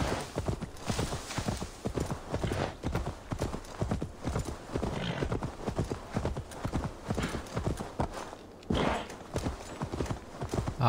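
A horse in the video game Assassin's Creed Valhalla moves with rhythmic clip-clop hoofbeats and gives a brief whinny, close and clear, with faint speech now and then under the hooves.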